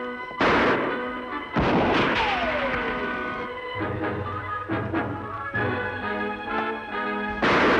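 Gunfire in an old Western radio drama shootout: several loud, sharp shots ring out close by, with echoing decays and rumbling tails between the bursts and no talk over them.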